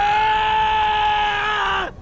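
A character's bestial scream of rage in The Hundred Line: Last Defense Academy, one loud sustained high-pitched cry held steadily for nearly two seconds before cutting off abruptly.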